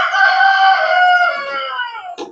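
A rooster lets out one long, loud, close cock-a-doodle-doo lasting about two seconds, tapering off with a short rough cluck at the end.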